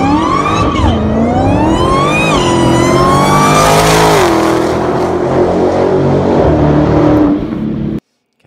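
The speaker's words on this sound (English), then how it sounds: "This is how the actual car sounds in real life." A car engine revs loudly and close, pitch climbing and dipping through several rising pulls before cutting off abruptly.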